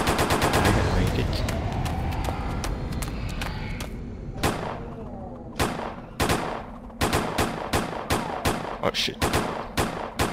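Gunfire rings out in the video game Lone Wolf 3, first a rapid burst of overlapping shots, then a sparser run of sharp, distinct reports, with a brief exclamation from a player.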